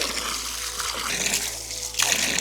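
Steady, close splashing of water from Toga's fountain in the Valencian countryside, a continuous bright rush and trickle that briefly grows louder near the end.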